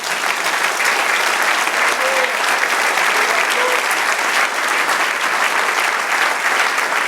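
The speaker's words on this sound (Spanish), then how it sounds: "Den un aplauso al Señor." Loud, sustained applause fills a church sanctuary as the congregation claps together, a dense unbroken wash of hands with faint voices underneath.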